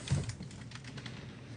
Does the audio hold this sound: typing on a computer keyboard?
yes